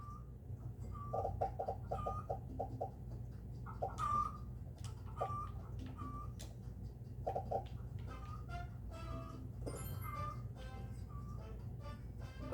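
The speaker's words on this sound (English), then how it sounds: "That's a lot of chickens." Video game chicken farm with clucking fowl: short repeated clucks and bird chirps in quick bursts over a steady low background hum, with faint ticking and no talk.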